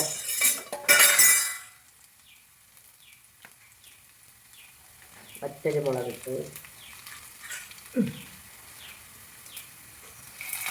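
Onion and dried red chili frying in a pan, a loud burst of crackle at the start settling into a quiet sizzle, with occasional clinks of a utensil against the pan and brief murmurs of voices.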